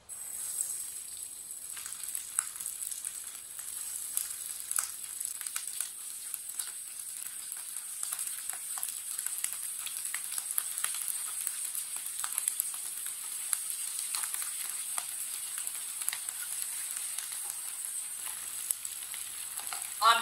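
Chapli kebabs sizzle steadily in hot oil in a pan, a dense continuous crackle and spatter with scattered sharp pops, close and fairly loud from start to finish.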